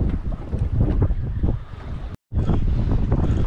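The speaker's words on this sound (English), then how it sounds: "Still a bit of wind." Strong wind buffets a small fishing boat out on choppy water, roaring steadily against the microphone with waves slapping below, cut by one brief drop to silence.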